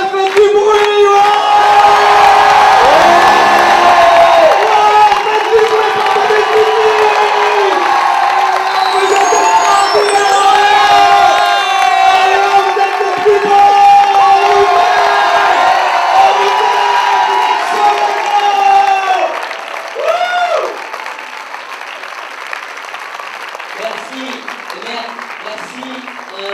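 A live audience at a screening of the film Babysitting with its cast present: a dense, loud wall of cheering, whooping and applause that carries on for most of the stretch, then tails off into scattered shouts and voices.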